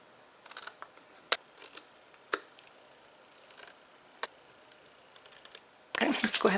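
Scissors cut through the corner of a paper gift box in a few sparse, crisp snips spread across the quiet, with a burst of louder rustling handling at the end.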